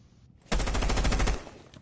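A rapid automatic burst of gunfire in a tactical shooter match, a loud close stream of shots lasting under a second, set against quiet background.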